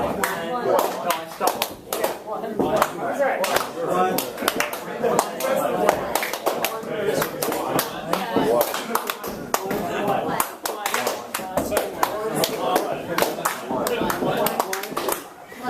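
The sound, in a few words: group clapping in unison, one clap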